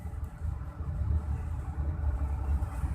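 From inside a moving car comes a steady low rumble of engine and road, even and fairly quiet, with no one speaking.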